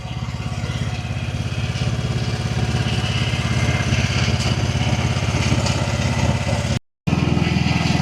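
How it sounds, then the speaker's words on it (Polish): A ride-on lawn tractor, used for both mowing and clearing snow, runs with a loud, steady engine drone throughout. The sound cuts out for a moment near the end and then continues. "No i traktorek sprawdza się w podwójnej roli. Kosi, odśnieża"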